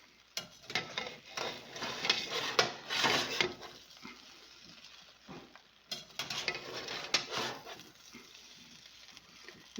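Bread stuffing browning in a stainless steel or cast iron pan, with bursts of crackling sizzle and scraping stirs that come in two waves, close and fairly loud, no voices.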